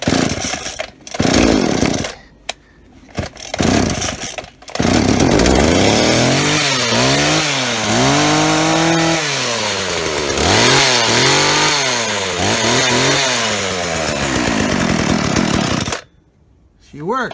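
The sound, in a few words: chainsaw starting and running after repair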